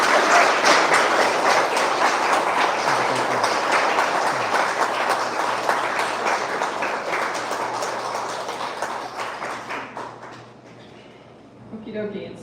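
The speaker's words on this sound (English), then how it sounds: "I just think they all deserve a tremendous round of applause" Audience applause at a live gathering fills the room as a sustained, dense round of clapping that slowly thins and fades out, followed by a few voices.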